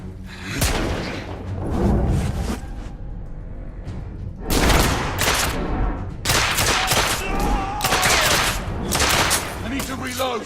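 Bursts of gunfire from the video game The Order 1886, loud clustered volleys of shots with short pauses between them, a few booms mixed in.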